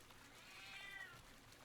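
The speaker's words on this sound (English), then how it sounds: "He is meowing." A cat meows once in a drawn-out, wavering call, moderately close over faint background noise and a light trickle of water.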